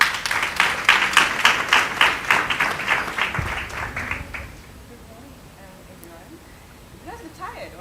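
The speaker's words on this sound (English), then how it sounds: "Please give her a round of applause." An outdoor audience at a port authority's Maritime Day open day claps in a quick, rhythmic round of applause for a speaker. The clapping is fairly loud for about four seconds, then stops, leaving quiet ambience and faint murmurs.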